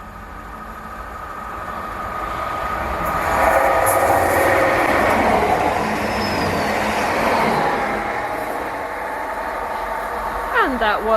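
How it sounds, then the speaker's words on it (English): A passenger train, unit 755421 bound for Stansted, rumbles through a small station on the Breckland Line, a steady broad roar swelling and easing over several seconds with faint rattling, and a brief voice near the end. "It's time for the train to Stansted, I think."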